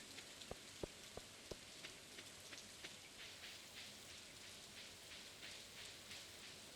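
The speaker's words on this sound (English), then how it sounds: "Oh, time to get in out of the rain." Rain falls in Stardew Valley, a soft, steady hiss of scattered drops, with a few sharper individual drips early on and faint brighter patters throughout.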